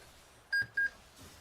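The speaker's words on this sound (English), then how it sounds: "As you heard, a couple of beeps there." A laptop starting up gives two short, clear electronic beeps in quick succession over a faint background hum, then quiet.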